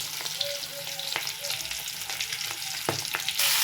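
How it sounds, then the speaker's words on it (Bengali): Raw jackfruit and potato fry in oil in a wok, a steady close sizzle broken by occasional stirring scrapes and clinks, with no talking. "বস ইঁচড় আলুটা ভেজে নিই"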